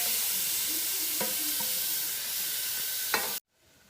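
Tomato dropped into a hot pan of sizzling curry base with crushed fennel and pepper, giving a steady loud frying hiss with a few stirring knocks before it cuts off abruptly.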